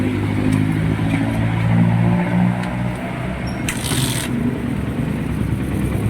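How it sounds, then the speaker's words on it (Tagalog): A second-hand motorcycle engine running steadily at close range after being started, a loud continuous low mechanical drone with a faint ticking clatter and a brief high whine partway through. "Ayan ang tunog ng makina niya idol."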